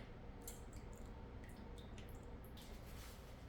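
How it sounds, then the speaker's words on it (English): Glaze poured over a homemade fall cake, a steady soft liquid drip and squish running continuously with faint wet splats on top, close and fairly quiet. "We are just going to pour that all over our cake."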